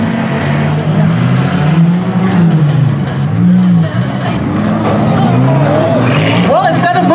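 Race cars roar around a figure 8 track during a demolition-style heat, engines droning loudly and continuously with rising and falling pitch as they pass, under a crowd murmur and a public-address announcer talking throughout.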